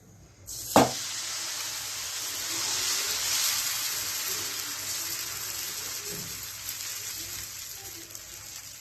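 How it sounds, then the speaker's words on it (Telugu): Dosa batter poured onto a hot pan hits with a sharp splash, then a steady, fairly loud sizzle and crackle continues for several seconds, slowly easing as it cooks, with no talking. "పెన్నం వేడెక్కింది దోశ వేస్తున్నాను"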